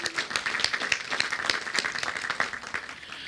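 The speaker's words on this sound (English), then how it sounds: "let's give her another round of applause" Moderate applause from a crowd at a county Veterans Day celebration, a steady patter of many hands clapping at fairly low volume without talking.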